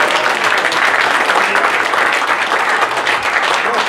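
A crowd applauds loudly and steadily, dense clapping sustained without pause for a few seconds.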